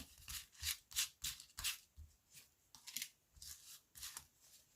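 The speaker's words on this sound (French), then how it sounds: "Alors, on va sortir 3 cartes." Tarot cards being drawn and shuffled, soft close papery swishes and flicks in quick irregular bursts, quiet with no talk.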